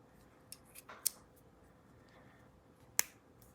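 A locking mechanism snaps onto a Leatherman multi-tool with a few small clicks, then one sharp, close metallic snap as it latches, against a quiet background.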